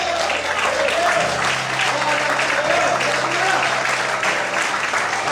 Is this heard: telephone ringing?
no